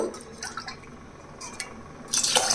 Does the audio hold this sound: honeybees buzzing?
no